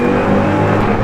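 A 2031 hp Hennessey Venom F5 Revolution Evo hypercar driving on a public road, its engine producing a loud, steady, close-up drone that holds without a break.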